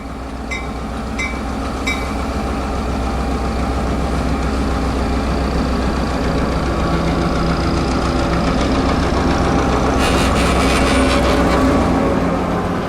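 The Clinchfield 800, an EMD F7 diesel locomotive built in 1948 as an F3, departs with a steady, loud engine rumble and throb, with a few sharp metallic clicks early on and a brighter clattering burst near the end.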